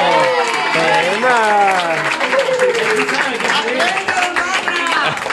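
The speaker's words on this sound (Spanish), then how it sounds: "¡Aplauso, por favor!" Audience applause and cheering, a steady wash of clapping hands that runs throughout while a person keeps talking loudly over it.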